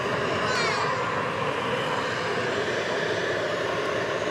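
Airbus A300 airliner taking off at night at DFW Airport, a steady broad engine roar at moderate distance, continuous and even throughout.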